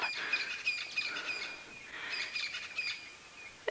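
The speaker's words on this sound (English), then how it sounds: "Can hear the Francolins chirping happily away." Francolins chirp in repeated bright calls over a cold sunrise in the bush, with overlapping bursts of birdsong at moderate distance and no voices.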